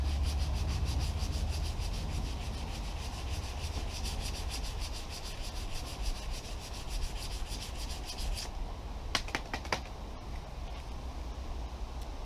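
Sanding purple paint off the body of a Mk3 Cortina Estate produces a steady, close abrasive rubbing that carries on without a break, with a few faint clicks near the end.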